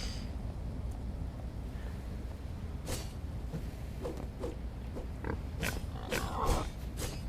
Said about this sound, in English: Are you aggressive, Mr. Pig?